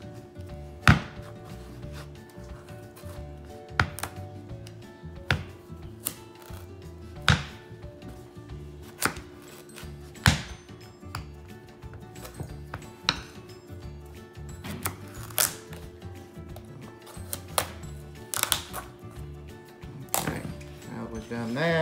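A knife works through a butternut squash lengthwise, sharp thuds and cracks landing every couple of seconds on a board, close and clear, with a voice speaking quietly between the cuts.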